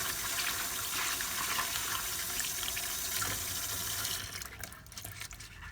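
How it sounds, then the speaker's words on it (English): Sweet potatoes are rinsed under a running kitchen tap, a loud steady rush of water splashing into the sink that drops off abruptly near the end into softer dribbles. "Next, rinse them thoroughly under running water."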